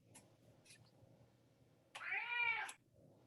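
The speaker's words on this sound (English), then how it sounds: "Cat's trying to answer." A cat gives a single clear, drawn-out meow near the microphone, preceded by a couple of faint short sounds against a quiet indoor background.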